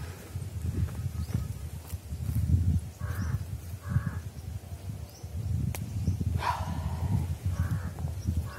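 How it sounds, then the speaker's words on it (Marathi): Several crows caw in short bursts over a steady outdoor hum near a dam in forest, a few calls spaced apart and one sharper caw near the end. "फक्त पक्ष्यांचे आवाज"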